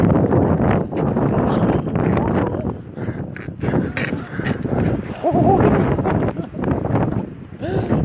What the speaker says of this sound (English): Hopefully the wind won't blow me into anything.